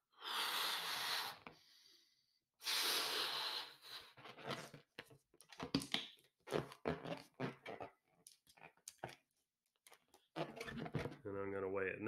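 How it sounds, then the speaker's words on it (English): A person blows up a balloon with several long, strong exhalations, breathy bursts with pauses between them, followed by short handling noises and a brief squeaky rubbing of the rubber at the end. "And then I'm going to blow this balloon up."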